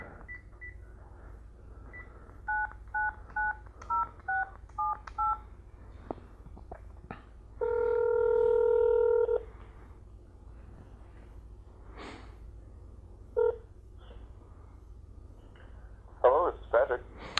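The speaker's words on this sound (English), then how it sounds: "Did I dial the right number?" Touch-tone digits dialed on a telephone for a sales call to a prospect ring out as a quick run of short beeps, followed by a long steady ringback tone and some faint clicks and handling sounds.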